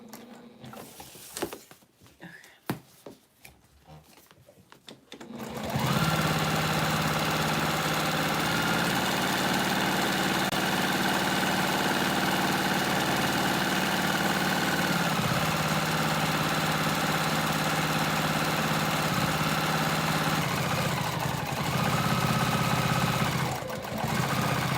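After a few seconds of quiet fumbling, a sewing machine stitching a bowler bag starts up and runs in a steady, loud continuous whir for the rest of the stretch.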